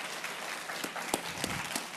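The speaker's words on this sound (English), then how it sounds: "Just give him a round of applause." An audience claps for a guest speaker at a college event, a short burst of steady, moderately loud applause with a few sharper individual claps standing out.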